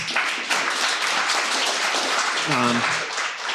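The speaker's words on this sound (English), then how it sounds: "So we'll give that one a little bit of applause." Audience applause at an annual watershed organization meeting: steady, dense clapping fills the room throughout, with a brief voice speaking over it near the end.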